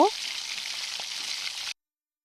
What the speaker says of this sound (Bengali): আমি এখন চারটা শুকনা মরিচ দিয়ে দিচ্ছি ভাজার জন্য মাছগুলোর সাইডে আমি শুকনা মরিচগুলো ভেজে নিব